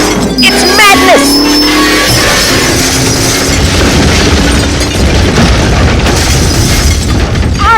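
In a Hot Wheels diecast race, a loud explosion effect booms as bumpers blow apart, followed by a sustained rumbling, crackling roar; excited voices talk over the start.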